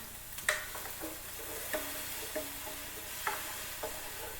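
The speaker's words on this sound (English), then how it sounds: "Stir that around." A spoon stirs vegan three bean chili in a pot, giving several sharp scraping knocks at irregular intervals over a soft steady sizzle, close and fairly quiet, with no talk.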